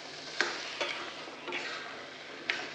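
Ghee goes into a hot pan while a Bengali potol dish is cooked, giving a steady sizzle and frying hiss with a few sharp clinks and stirring scrapes spaced across the moment.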